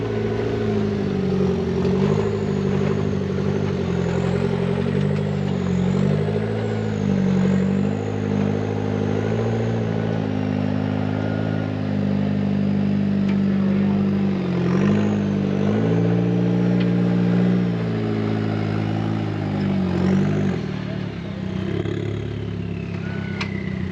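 A competition car crawls over an obstacle course, its engine holding a steady loud drone with rising and falling revs and occasional clatter, continuous for the whole stretch.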